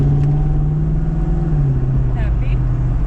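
A Ford Mustang heard from inside as a loud, steady engine hum with the pitch dipping slightly, while people talk over it.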